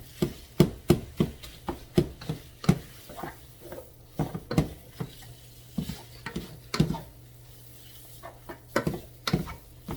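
Browning sausage being chopped in a pan with a spoon for Zuppa Toscana soup, sharp irregular clacks of the utensil striking the pan over a soft sizzle, close and clear with no talking.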